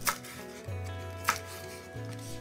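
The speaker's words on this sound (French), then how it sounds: "on coupe la base racinaire, qu'on ne va pas garder, puis on détaille en tronçons" A knife chopping a rinsed spring onion into short lengths after trimming off the root end; two crisp, quiet cutting strikes on a board over a faint steady hum.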